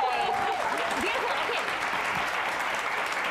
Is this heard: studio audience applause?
yes